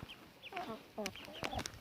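Village chickens cluck in short, close bursts, several soft calls overlapping in quick succession with a brief squawk near the end.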